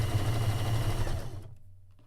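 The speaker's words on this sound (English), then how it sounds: "Just going to sew that right on" A sewing machine stitching a solid quilt block for a quilt sampler, a rapid close whirring hum of needle strokes that runs steadily and then winds down and stops.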